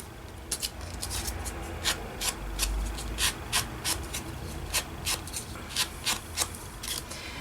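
An ink pad rubs around the edges of cut paper pieces, close, dry, rhythmic scuffing strokes repeating at a steady pace.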